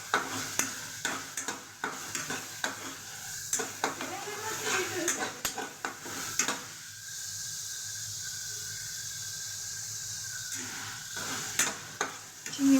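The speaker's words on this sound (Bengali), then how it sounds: "এবার আমি চিংড়ি মাছগুলো দিয়ে দিচ্ছি।" Prawns dropped into spice paste in a pan and stirred, giving a steady sizzle with scraping stir strokes and pan clatter, the frying loudest in the middle stretch.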